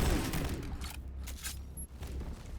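Rapid burst of Desert Eagle shots emptied in one alternate-fire mag dump in the shooter game GTTOD, loud and dense at the start, then trailing into a low rumble with sharp clicks.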